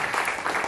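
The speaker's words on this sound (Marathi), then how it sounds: "आम्ही जोरदार टाळ्या वाजवतो आपण करायला." An audience claps at a talk event, brief and moderately loud with dense overlapping claps.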